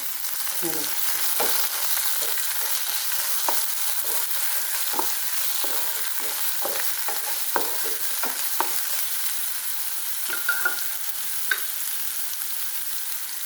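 Chopped ginger frying in a pan for lime pickle: a bright, continuous sizzle punctuated by frequent scraping clicks of stirring, near and moderately loud, with no voices.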